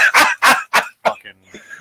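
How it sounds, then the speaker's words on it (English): Several harsh, forceful coughs come in a quick burst, loud and close, followed by a softer throaty sound and faint breathing. "You cough every time."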